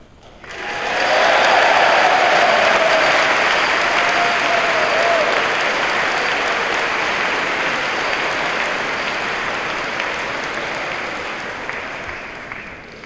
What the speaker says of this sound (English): the Corps will give a loud and boisterous applause